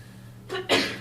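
A single sharp sneeze during a school board meeting, a brief intake followed by a loud burst of breath, close by in a quiet room with a low hum.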